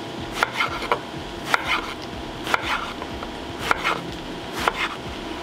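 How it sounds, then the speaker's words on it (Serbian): A knife chops a large purple eggplant into big chunks on a board, with six evenly spaced, crisp strokes about one second apart, close and clear over a faint background hum. "Patličan ću iseći ovako na krupnije komade."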